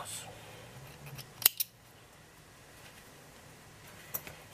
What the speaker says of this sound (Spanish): Tiramos un poquito y ahora cortamos.